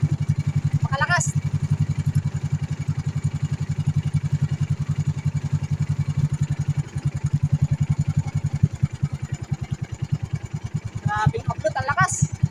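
A motorcycle engine idles close by, a steady, rapid low-pitched putter thrumming throughout, with brief bursts of a voice over it near the start and end.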